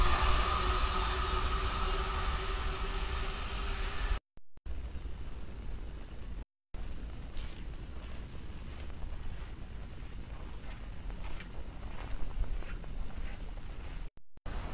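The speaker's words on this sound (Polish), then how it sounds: "Przyjechaliśmy właśnie metrem takim oto." An Oslo metro train heading toward Holmenkollen gives a steady, loud rumble of wheels on rail with faint rhythmic clatter throughout, broken only by a few brief gaps.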